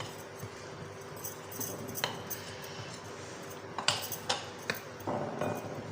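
A spoon stirs masala-seasoned French fries with tomato ketchup in a dish, giving a run of light, scattered metallic clinks and scrapes close by, with a few sharper taps and a short rustling stir near the end.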